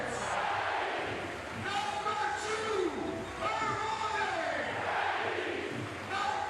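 A basketball crowd in a big arena chants players' surnames at a final, rhythmic massed voices swelling in repeated waves, loud and echoing.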